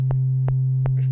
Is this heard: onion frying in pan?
no